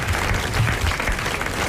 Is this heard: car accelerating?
no